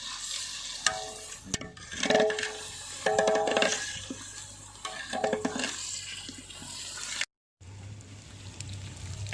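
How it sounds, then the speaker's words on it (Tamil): A glass of water poured into a pan of fried soya biryani masala with salt and ground chili paste, giving a loud rush and sizzling splutter with stirring clatter, broken by a short silence before a low hum. "எல்லாம் பொரிஞ்ச பிறகு ஒரு கிளாஸ் தண்ணி ஊற்றிக்கணும்."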